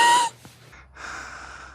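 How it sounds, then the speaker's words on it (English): A person breathing loudly beside a junkyard Volvo 850 T-5R, a short rushing breath followed by a quieter inhale, close to the microphone with no talk. "Can you stop breathing so loud"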